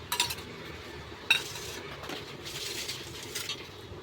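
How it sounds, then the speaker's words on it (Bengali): Chicken being mixed with vinegar and mustard oil for a Bengali chicken kosha, a few sharp metallic clinks of a spoon against a bowl over quiet, soft stirring. "সর্ষের তেল আমি 2 চামচ দিয়ে আমি এটাকে ভালো করে মেখে নেব"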